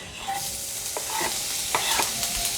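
Chopped onion goes into a hot pan for scrambled eggs with tomato, giving a steady broadband sizzle with a few sharper crackles and stirring scrapes, close and fairly loud, no talk.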